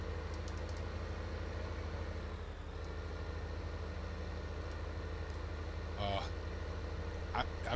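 A tractor engine in Farming Simulator 15 idles low and steady throughout with a constant rumble, joined near the end by a few brief higher-pitched clicks and rattles.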